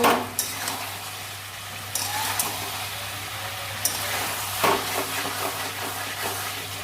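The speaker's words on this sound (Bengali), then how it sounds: "এবার আমি গরম জল ঢেলে দেব" Hot water hits goat meat curry sizzling in a pan, giving brief hissing bursts and soft clatters of stirring over a steady low hum, close and moderately quiet.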